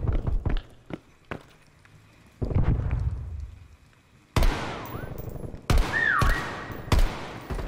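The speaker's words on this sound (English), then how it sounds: "This guy's shooting everything in his sight." Gunfire in the shooter Call of Duty Cold War, with sharp scattered shots and impacts, footsteps, then loud close bursts with whooshing game effects.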